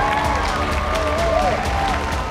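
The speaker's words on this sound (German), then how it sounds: "Großen Applaus für Isabel Schuber, unsere Regisseurin." At a film world premiere, an audience breaks into sustained applause mixed with crowd noise and light cheering, with a tonal whistle-like sound rising briefly in the middle.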